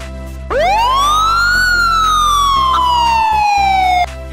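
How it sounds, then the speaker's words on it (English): An ambulance siren wails loudly and close, a single long rising-then-falling sweep that climbs quickly and slowly glides down, heard alone without talk. "Ambulance."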